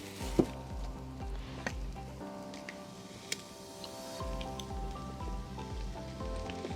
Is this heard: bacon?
yes